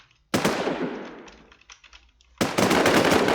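Gunfire in the NewZ survival shooter: a sharp rapid burst of automatic shots, a fading rattle, then another sustained close burst at the end, loud and without talk.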